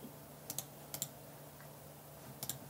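Typing on a computer keyboard comes through as three quick clusters of soft key clicks spaced about a second apart, faint and close against a quiet room.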